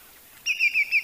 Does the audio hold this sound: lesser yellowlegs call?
yes